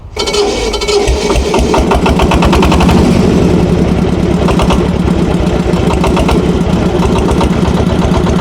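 A KENTAVR 160B motor tractor engine starts up and settles into a steady, loud idle, its rapid chugging pulses continuing evenly throughout with no talking.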